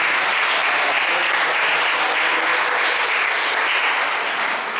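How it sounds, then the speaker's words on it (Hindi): A church congregation at a Sunday evening service claps loudly and steadily, a dense, even wash of many hands sustained throughout with no speech over it. "क्यों ना आप जोरदार परमेश्वर के लिए जोरदार ताली बजाते हैं"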